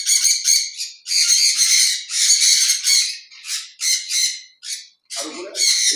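Sun conure parrots at a bird breeder's aviary squawk loudly and near in repeated shrill bursts, one after another, with only brief gaps between calls.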